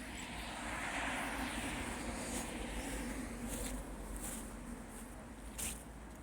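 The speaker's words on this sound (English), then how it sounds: "It's a cable car." A cable car climbing a mountainside above Trento, Italy, gives a steady, continuous mechanical drone with a broad rushing hiss, fairly close and unbroken, with no voices over it.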